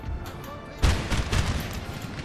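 Musket volleys in a Napoleon: Total War battle crackle out in a sudden burst of overlapping shots, followed by a second ragged wave, over distant battlefield din.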